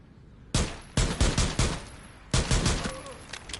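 Rapid pistol shots in Rainbow Six Siege fire in quick close bursts, one opening shot followed by a fast string of four and then another quick volley, sharp and loud.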